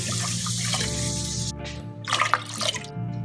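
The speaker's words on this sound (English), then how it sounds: "I'm gonna add in 2 cups of water." Two cups of water pour into a crockpot of homemade chicken broth in a short, close splashing trickle, with a brief louder gush near the end.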